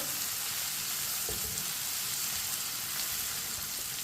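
Ground red chili, crushed red chili and turmeric frying in a pan on low heat for bhindi fry, giving a steady soft sizzle with a few faint stirring scrapes and no voices.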